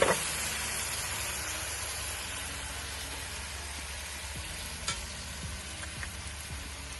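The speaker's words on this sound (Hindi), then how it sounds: "अब इस पॉइंट पे हम इसमें डालेंगे थोड़ी सी दही" Chicken sizzles steadily in a frying pan with yogurt stirred in, a dense continuous crackle and hiss at close range with a few sharper spatters and scrapes, no voices.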